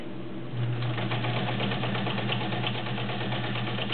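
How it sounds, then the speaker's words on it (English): Vintage Kenmore Heavy Duty 1207 sewing machine stitching through five layers of denim, a steady rapid mechanical whir and chatter running evenly and close throughout. "Not many machines will go through 5 layers of denim"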